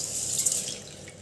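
Water poured from a tap or vessel onto soaked rice for grinding, a short soft splashing trickle heard alone.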